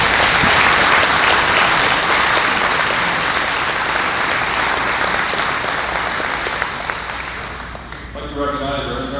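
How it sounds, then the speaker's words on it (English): Sustained, loud audience applause for volunteers at a livestock sale of champions, a dense steady clapping from a large crowd that tapers slightly near the end. "let's give them all a big round of applause"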